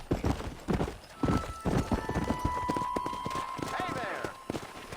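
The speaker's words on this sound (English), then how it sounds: "Control that horse, will ya?" Horse hooves clip-clop steadily in the Red Dead Redemption western game during a cattle-driving mission, with the occasional whinny and a tonal game sound, all mixed under talk from the characters.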